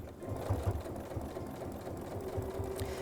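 A sewing machine top stitches with a bi-level foot, a close, steady rapid mechanical whirring with a fast stitching rhythm throughout.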